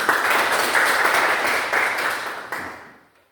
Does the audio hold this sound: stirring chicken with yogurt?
no